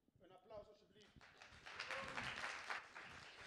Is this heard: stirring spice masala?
no